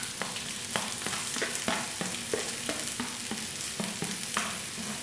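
Onion frying in about two spoons of oil for a rice tomato sauce, a continuous close sizzle broken by regular scraping stirs roughly twice a second, no talking.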